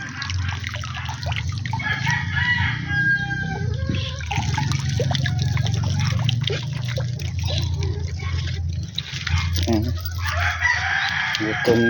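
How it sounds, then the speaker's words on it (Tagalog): Hungry chickens cluck and squawk busily close by at feeding time, with a rooster crowing amid the flock's constant chatter. "Gutom na yung mga manok ko."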